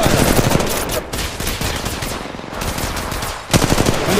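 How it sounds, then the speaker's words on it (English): Rapid automatic gunfire in the mobile battle royale game Apex Legends Mobile, loud, dense bursts that barely pause, with a short lull near the middle before another heavy burst. "Shots fired at me."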